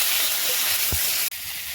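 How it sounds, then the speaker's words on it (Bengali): Cut mangoes poured into hot white oil with mustard seeds and dried red chilli in a kadai. They give off a loud, steady sizzling hiss, close by, with a short break near the end. "তার মধ্যে আমি কেটে রাখা আমগুলো ঢেলে দিলাম"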